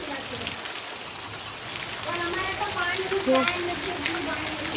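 Heavy rain patters steadily on a surface, soaking a parked vehicle amid waterlogging, with a dense hiss, and faint voices and small knocks mixed in over it.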